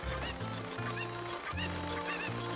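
Loud, busy audio from Zelda: Ocarina of Time with repeated honking, squawking angry chicken calls over steady music, several overlapping cries in quick succession.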